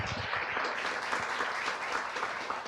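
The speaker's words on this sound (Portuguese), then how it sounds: "Você pode dar uma salva de palmas a Jesus por isso?" Sustained applause from a church congregation, many hands clapping in a steady dense patter that holds at an even level for a few seconds, with no speech over it.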